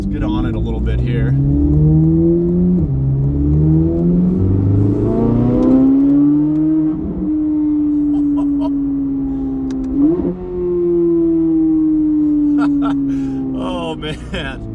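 A modified C8 Corvette Z06 engine revs hard while accelerating, its loud tone climbing steadily through several gear changes and dropping briefly at each shift, heard from inside the car with no talking.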